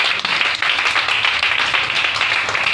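A church congregation at a worship service claps and cheers together, a dense, continuous wash of applause heard up close for the whole stretch, with faint voices mixed in.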